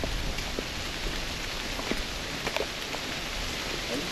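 Heavy rain pours down on a hiking trail, a dense, steady hiss of drops on foliage and ground with a few sharper splats, with no talking.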